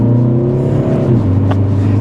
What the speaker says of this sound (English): I really hope that exhaust note is coming through the camera